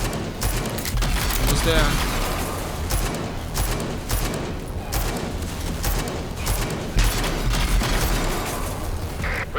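Video game gunfire with a pistol among loud rapid shots and booms, repeated cracks over a noisy action mix, with a voice speaking briefly partway through.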